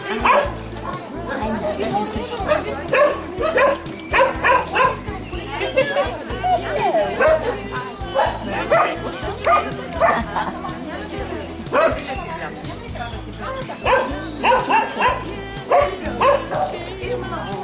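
Several dogs, one of them crippled, yip, bark and whimper in short repeated bursts close by while a person talks to them in between.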